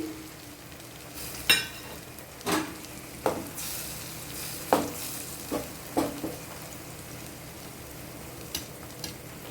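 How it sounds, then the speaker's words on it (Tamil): Beaten eggs hit hot coconut oil in a pan with snake gourd, giving a steady soft sizzle broken by several sharp clinks and stirring knocks of a utensil, close and fairly quiet, with no talking. "இப்போ இதில் கொஞ்சம் தேங்காய் எண்ணெயை ஊற்றி இதில் முட்டையை உடச்ச முட்டையை இதில் ஊற்றிடும்"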